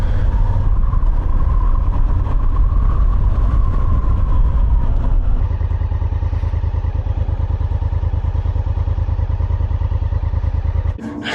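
A motorcycle rides through Munich toward Pasing in the west, its engine a loud, steady drone with wind rush. The pitch settles into a lower, even hum partway through, and no one speaks.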